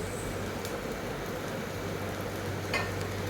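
Grated, pre-roasted bitter gourd goes into a pan of masala, and a loud, steady hiss of frying fills the whole span, with only a faint clink near the end and no talking.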